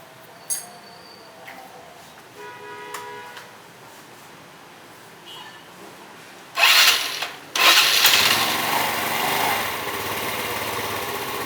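A Yamaha Mio motorbike freshly serviced at the CVT coughs a few times, then catches and runs, settling into a steady, loud, high-pitched idle that fills the space.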